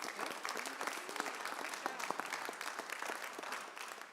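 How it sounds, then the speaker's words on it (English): An audience at a school district annual electors meeting applauds district officials, a steady crowd of clapping hands sustained for several seconds, moderately distant and even. "So a round of applause for our district officials"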